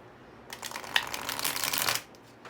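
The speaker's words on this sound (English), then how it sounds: "Let's try another shuffle" A deck of oracle cards is riffled and shuffled close up, a dense papery flutter lasting about a second and a half before stopping.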